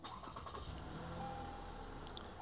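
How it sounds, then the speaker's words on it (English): A 2016-2019 Lexus RX being started, a steady low engine rumble with broadband hum filling the moment, no voices present. "And let's turn on the car."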